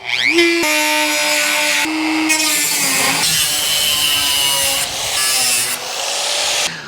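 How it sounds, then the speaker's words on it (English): A Dremel with a small cutoff wheel slices through rusted sheet metal on a 1953 GMC truck cab, making loud, high, whining grinding bursts with short pauses between cuts. "I like to bust out my Dremel. Small and mighty here is what I call them. Gonna come in here and cut it"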